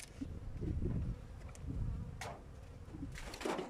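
Honeybees buzz around an opened hive during a beekeeping check on a weak colony, a steady close hum with brief higher whirs of bees flying past.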